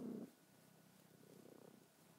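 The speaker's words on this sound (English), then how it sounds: "You can probably hear her purring." A cat purrs softly and steadily, a faint rhythmic rumble up close, with a brief louder rustle at the start.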